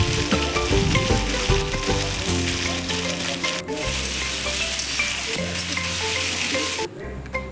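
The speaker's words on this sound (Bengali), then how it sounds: "কড়াইতে গরম তেল বসিয়ে তার সাথে শুকনো লঙ্কা কাঁচা লঙ্কা এবং সাদা জিরে ফোড়ন দিয়ে কচুটিকে ঢেলে দিতে হবে" Taro pieces fry in hot oil in a wok tempered with dried red chillies, green chillies and cumin seeds, making a loud, steady sizzle with stirring scrapes and no talking.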